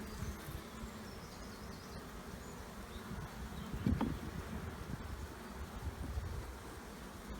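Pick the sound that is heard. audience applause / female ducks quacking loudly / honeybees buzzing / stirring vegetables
honeybees buzzing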